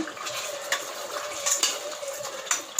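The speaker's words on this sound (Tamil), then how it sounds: "இந்த பியூரி ஆட் பண்ணிவிட்டு நல்லா வதக்கிக்கோங்க" Blanched tomato puree is sautéed into Rogan Josh gravy, with a soft, continuous frying hiss and stirring under repeated light clinks of a metal spoon against the pan.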